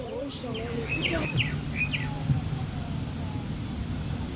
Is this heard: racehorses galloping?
no